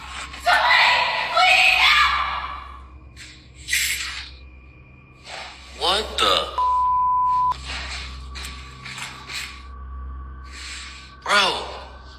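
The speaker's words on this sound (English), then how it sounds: "the man is left to wonder where that screech came from" A sudden eerie screech cuts through a quiet house, with a sharp rising-falling shriek standing out among gasps and panicked voices, followed by a steady electronic tone.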